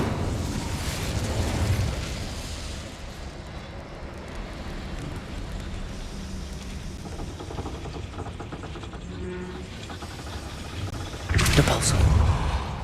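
An Incendio fire spell is cast in the video game Hogwarts Legacy, a roaring, rumbling burst of flame with a steady fiery rush and a sharper flare near the end.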